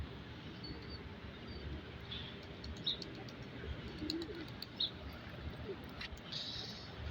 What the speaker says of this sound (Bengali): এগুলাই সেই জালালি কবুতর